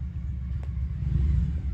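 A Victory motorcycle engine rumbles low and steady close by, rising slightly toward the end as the bike is parked, with no talk over it.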